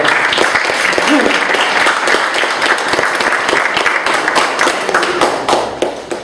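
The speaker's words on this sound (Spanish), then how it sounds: "un cálido aplauso" An audience at a geopolitics lecture applauds to welcome the speaker, with dense, steady clapping from many hands that fills the whole stretch at even loudness and tapers slightly at the end.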